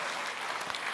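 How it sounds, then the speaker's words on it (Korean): Audience applause at a Korean business income seminar, a dense, steady burst of clapping from a crowd heard on its own for about a second. "박수 한번 보내드릴까요?"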